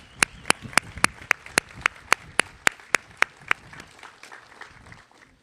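At a National Vietnam War Veterans Day ceremony, a few distinct, sharp claps ring out in a steady rhythm, close and crisp, then thin into softer scattered clapping that fades away.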